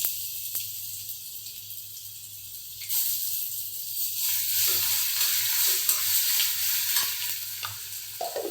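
Crushed ginger and garlic sizzle and crackle steadily in hot oil for a papaya pickle, with stirring scrapes that grow busier partway through.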